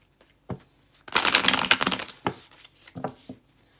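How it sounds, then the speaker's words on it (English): Tarot cards are shuffled close by: a quick riffling burst of papery flicks, then a few separate taps and slides as the deck is squared. "So I'm just going to go ahead and shuffle the decks."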